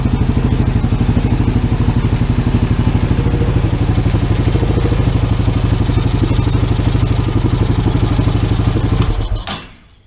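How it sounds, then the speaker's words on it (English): A rebuilt Honda Rubicon ATV engine runs at a steady, loud idle with a rapid even exhaust pulse right beside the microphone, then cuts off abruptly near the end. "There's your exhaust, buddy."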